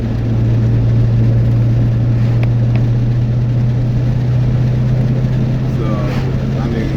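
Original-owner 1999 Cobra cruising Baltimore County back roads, its engine a steady, loud low drone heard from inside the cabin, holding an even note throughout with no sharp revs.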